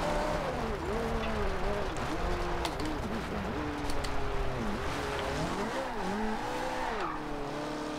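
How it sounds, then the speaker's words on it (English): A 2009 Ferrari 458 Italia in Forza Horizon 2 revs hard with wheel spin out of a corner, its engine note rising and falling steadily, with faint tire squeal underneath. "A little bit of wheel spin coming out of that corner."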